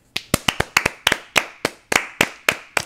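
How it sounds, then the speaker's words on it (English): A dozen or so crisp hand claps in a loose, slightly uneven rhythm, close and loud, with no talking. "a 10-second clap for bananas"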